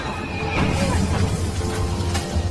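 A horse whinnies during a plunge over a snowy cliff edge in the film The Revenant, a loud neigh with crashing, rumbling noise underneath and no talking.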